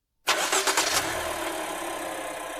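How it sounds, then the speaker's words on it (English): A car engine is started with the key: a brief burst of cranking catches, and the engine settles into a steady, close idle that continues to the end. "as soon as you hear the engine start, release it"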